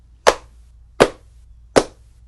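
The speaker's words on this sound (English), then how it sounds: "Let's do the clapping" Three sharp, separate hand claps, each close and loud with a quick decay, spaced about three-quarters of a second apart, picked up by a wired lapel microphone during a test in an otherwise quiet room.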